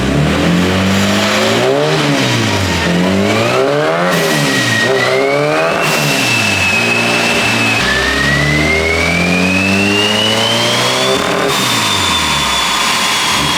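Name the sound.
turbo Honda K-series engine revving on boost on dyno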